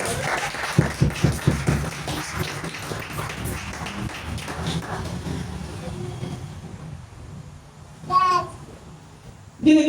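A church congregation claps and cheers in praise of Jesus, a burst of rhythmic clapping and voices early on that settles into a steady crowd murmur, with a couple of short louder flares near the end.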